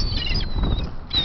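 Seagulls on a beach flap their wings close by in a quick burst of soft, fluttering whooshes, while a thin, high-pitched gull cry runs faintly over the top.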